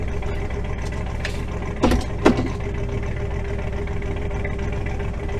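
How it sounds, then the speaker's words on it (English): A car fitted with Holley Sniper EFI drones steadily on the freeway at a constant engine hum, broken by a couple of short louder clunks near the start. "I'm going to accelerate up to 70, 80 miles an hour or so on the freeway"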